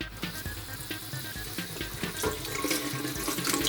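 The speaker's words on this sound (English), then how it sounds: "running water" Water runs continuously from a tap while a crab is rinsed, splashing into a sink with a steady rushing hiss and occasional clinks.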